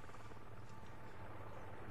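Helicopter in the Medal of Honor video game, a steady, continuous rotor drone and rumble heard at moderate distance, with no talk over it.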